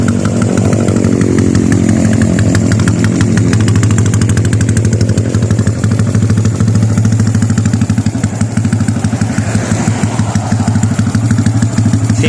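A Honda Wave 110i motorcycle engine with a new timing chain runs steadily at close range, a loud, even rattling putter that holds its pitch with no talking over it.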